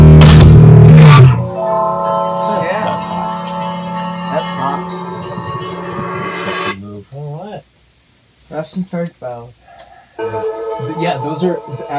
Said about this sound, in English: Those are actually the church bells by the house where Olya's parents lived at.